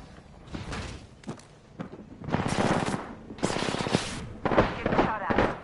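Bursts of rapid automatic gunfire in a video game, several rattling volleys separated by brief pauses with single sharper shots between, loud and close, with a voice speaking intermittently.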